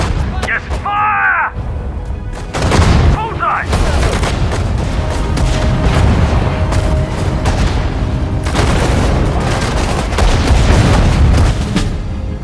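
Heavy artillery booms and gunfire from the real-time strategy game Sudden Strike 4, in a British assault on the Mareth Line in March 1943, rolling continuously and loud with scattered shouted voice lines at the start.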